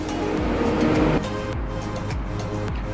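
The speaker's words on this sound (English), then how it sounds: "If you guys hear any cars and stuff like that in the background," Traffic noise at a park, with a continuous rushing wash of passing cars and low engine drone in the background, steady throughout with no talking.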